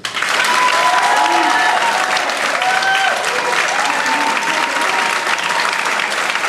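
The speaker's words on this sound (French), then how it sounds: "Notre ami, sous applaudissement, Eric." A concert audience applauds, a dense, steady wash of clapping from many hands with faint crowd voices mixed in, sustained throughout.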